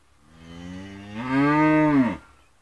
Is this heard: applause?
no